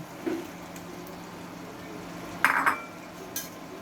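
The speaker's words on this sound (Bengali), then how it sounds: "এবার তার ভিতর ভাজা চিংড়িগুলো" Fried prawns tipped into a pan of cooked-down masala with taro flowers: a couple of metallic clinks and scrapes of a utensil against the pan over a low background hum, with no talking.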